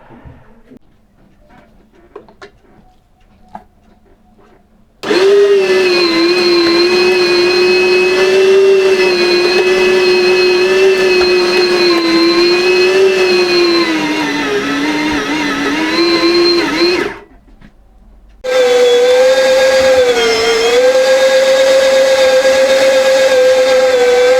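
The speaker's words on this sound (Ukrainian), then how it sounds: "фарш наш змололи" An electric meat grinder grinds homemade minced meat, a loud steady motor whine that runs for about twelve seconds, cuts out briefly, then starts again close up.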